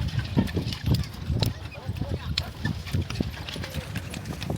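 Horse hooves clip-clop near the Giza pyramids, a close, uneven trot of sharp knocks beneath excited voices talking and calling out.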